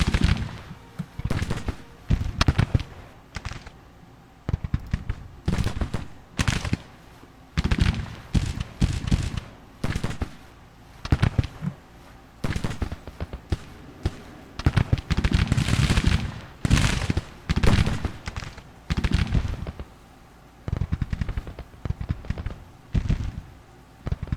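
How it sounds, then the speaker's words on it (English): Musket gunfire in the Civil War video game Grand Tactician crackles in repeated ragged volleys, bursts of many overlapping shots separated by brief lulls, loud and continuous throughout. "I can just sit there and pop shots until I run out of ammo"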